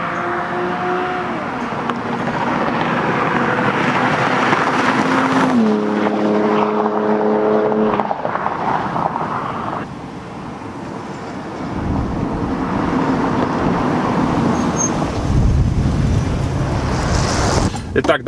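A BMW 330 (E46) engine drones steadily while driving, its pitch climbing and shifting through gear changes, loud and close throughout with road rumble underneath.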